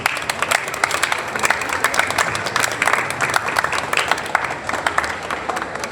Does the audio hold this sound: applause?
yes